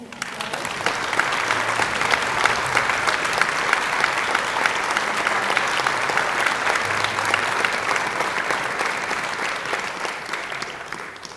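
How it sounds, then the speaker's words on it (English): Sustained applause from a concert audience honoring a first-section violinist at a university symphony orchestra performance, steady dense clapping filling the hall throughout without talk. "let's go ahead and give her a round of applause"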